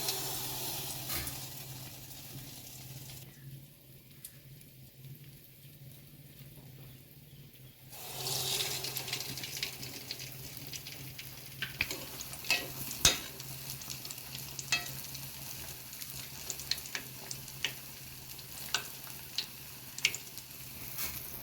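Sizzling of suzhiyam balls, sweet stuffed dumplings coated in batter, frying in hot oil, a steady bubbling hiss that swells after a quieter start, with small crackles and pops throughout and no talking.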